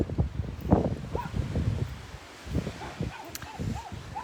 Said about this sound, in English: Puppies have got a lot to say for themselves.